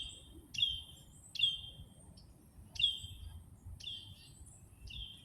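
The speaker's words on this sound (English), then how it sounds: "I think that's cardinal." A cardinal sings outdoors in a series of clear, repeated whistled notes, about five phrases spaced roughly a second apart, moderately near over a low background rumble.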